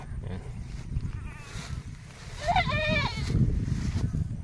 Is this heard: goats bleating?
yes